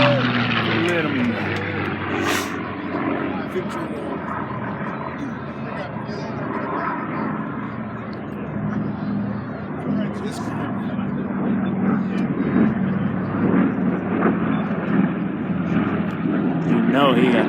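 An FG-1D Corsair warbird flies over an air race show, its propeller engine a low droning rumble heard from a distance under a crowd's chatter and voices.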